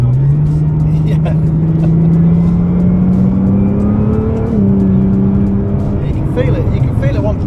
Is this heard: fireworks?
no